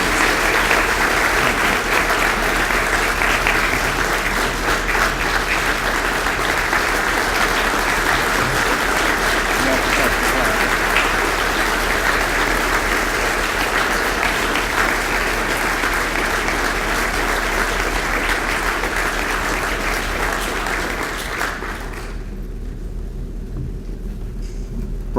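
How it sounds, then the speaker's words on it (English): Sustained, loud applause from a dinner audience at an association's annual banquet, honoring the outgoing president, continuing steadily for over twenty seconds before tapering off near the end. "Please join me in a round of applause for our outgoing President, Michael Lee."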